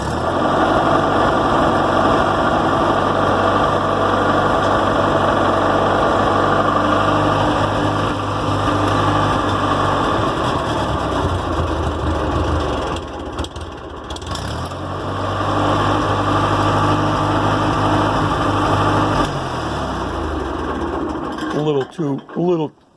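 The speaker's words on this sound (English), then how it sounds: "A little too cold to let it idle all the way down." A small engine idles after a cold start, a steady, buzzy high-pitched running note that holds for most of the time, dips briefly, then cuts off near the end.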